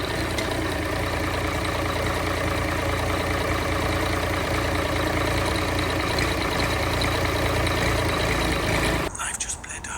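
A tractor engine idles steadily and close by for most of the stretch, a dense continuous rumble that cuts off abruptly near the end, leaving quieter background noise.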